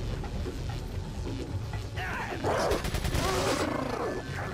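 TMP machine pistol fire in Resident Evil 4, a burst of rapid crackling shots over game noise that grows louder and busier in the second half, with growling creature sounds mixed in.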